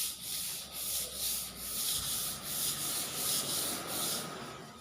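Light hand sanding of sanding sealer on wood before varnishing, a soft rhythmic rubbing that repeats in steady strokes, close and quiet with no talk.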